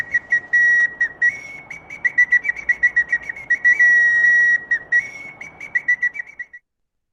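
An indigenous whistle is blown in a run of short, shrill, piercing toots, some held longer, close and loud with no talk.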